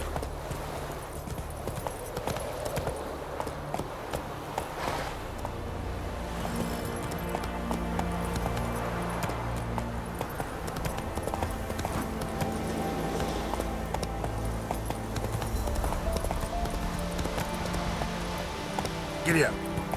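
Horse galloping in The Witcher 3, a video game: quick rhythmic hoofbeats under game music and ambience, with someone talking over them.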